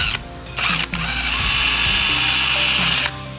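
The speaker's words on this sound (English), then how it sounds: "The problem is drill is going to slide the wrong direction" A power drill whines steadily and loudly, its pitch shifting as it bites into the metal steering column lock cylinder of a VW T4 Syncro, with brief stops and restarts near the start.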